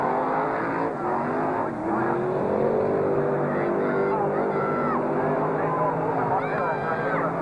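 NZ stock cars race around a track, engines droning continuously and loud with passing revs rising and falling, while a commentator talks over the roar.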